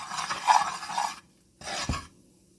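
Flour and oil for turkey gravy are stirred in a pan, giving two bursts of close, rough scraping and rubbing separated by a short pause.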